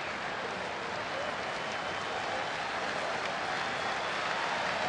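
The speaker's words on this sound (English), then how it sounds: "now this capacity crowd starts to get behind their left-hander" Capacity crowd at a baseball stadium during a Washington at Philadelphia game, a dense steady roar of cheering and applause throughout, loud and continuous.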